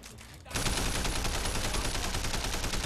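Sustained automatic gunfire from enemies in the video game Sleeping Dogs erupts after a brief quiet start, a loud, dense, continuous rattle of rapid shots with no pause.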